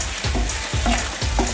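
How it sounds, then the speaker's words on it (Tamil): Paneer coriander gravy boils in a pan, giving soft, repeated bubbling pops and a gentle sizzle at close range, with no voices. "இது கொஞ்ச நேரம் நல்லா கொதிக்கட்டும்."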